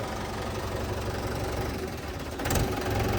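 A Mahindra 585 tractor engine idles with a steady low rumbling throb, surging a little louder near the end, with no voices.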